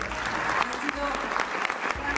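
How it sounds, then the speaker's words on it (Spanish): Theater audience applause rolls on steadily as a busy wash of clapping, with voices talking over it throughout. "un aplauso para ellos, por favor"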